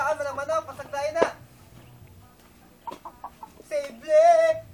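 Domestic chickens clucking and squawking in short bursts near the start and again near the end, close by, with a voice and adult talk mixed in.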